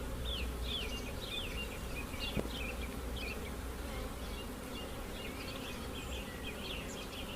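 Honey bees at an open hive drone in a dense, steady buzz that never lets up, with individual bees darting close to the microphone.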